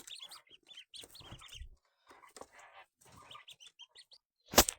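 Sturdy young ducklings in a backyard poultry yard give repeated short, high peeping chirps in scattered bursts, fairly close, ending with a sudden loud thump.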